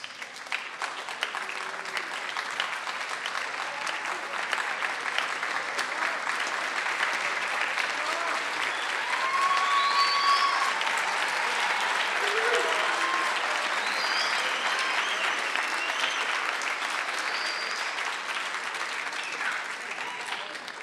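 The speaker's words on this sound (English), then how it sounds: "This next applause is for you." Sustained applause from a concert audience honoring band parents at a high school spring band concert, a dense steady wash of many hands clapping for about twenty seconds with scattered crowd noise, swelling slightly midway.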